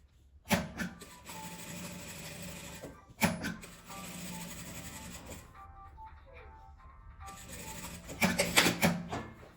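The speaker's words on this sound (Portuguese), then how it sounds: "E já vou passar uma costura em volta dele todo e recortar." A sewing machine stitches around round lining fabric for a scrap-fabric coin-purse keychain, running in a steady whir for several seconds at a time between short pauses and thumps, close and moderate in level; no talk.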